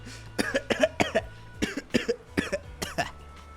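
A character in the game Zenless Zone Zero coughs in a rapid series of harsh, sputtering fits, about a dozen bursts close up, with throat-clearing sounds between.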